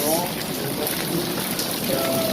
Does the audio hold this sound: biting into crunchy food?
no